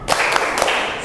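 Students in a classroom clap a short spirit chant together, a few loud group claps in a quick pattern over about a second.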